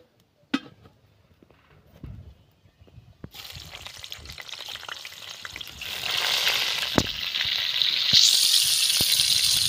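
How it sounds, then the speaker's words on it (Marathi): Jackfruit pieces go into hot oil, starting near-silent with a few knocks before the frying sizzle rises and swells into a loud, steady, bubbling hiss for the rest of the time. "आता आपण हे फणस नाही का तेलामध्ये तळून घ्यायचं आहे आपल्याला।"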